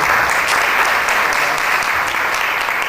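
Audience applause at a startup bootcamp event as a sponsor is introduced: dense, steady clapping from a crowd, loud and close, filling the short span without pause.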